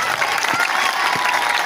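An audience at a speech bursts into brief, dense clapping that spreads evenly as a continuous patter of many hands nearby, with no clear talk on top.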